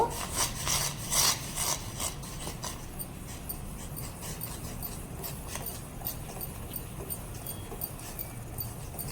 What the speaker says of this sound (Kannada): ಈ ರೀತಿ ರವೆ ಹಾಕ್ತಾ ಕೈ ಇನ್ನೊಂದು ಕೈಲಿ ನೀಟಾಗಿ ಗುರಾಡ್ತಾ ಇರಬೇಕು